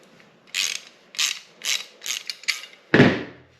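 An Allen head bolt on a Honda CBR500R fender eliminator kit is tightened with a ratcheting tool, giving about six short clicking ratchet bursts in a steady rhythm, close and alone, ending with a louder final clack.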